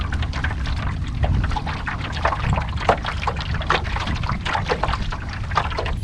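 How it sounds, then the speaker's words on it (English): Hobie Mirage Lynx kayak hull slapping against waves on open water, a steady churning wash with repeated soft slaps and wind buffeting the microphone close by. "When I'm hitting waves, the hull slap is louder."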